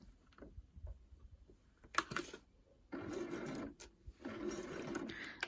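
Sewing machine stitching a flat sleeve into fabric, the needle run starting and stopping in short bursts, with a steady stretch of stitching near the end, close and moderately loud.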